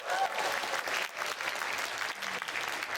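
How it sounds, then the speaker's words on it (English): An audience at a college food-tasting event claps in a round of applause, dense and continuous with slight swells, heard at moderate volume from the crowd. "You want to give them a round of applause"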